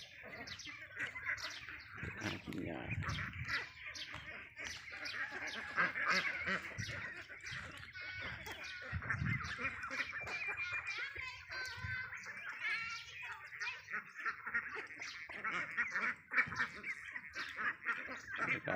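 Many ducks quacking loudly in a dense, continuous chorus while let out to graze on grass in the evening, close by, with occasional human voices mixed in underneath.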